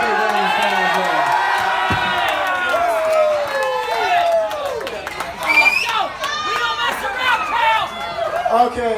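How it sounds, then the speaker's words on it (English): Wedding guests at the speeches cheer, whoop and shout together, with excited voices and chatter overlapping loudly throughout. "let's give him a big round of applause there"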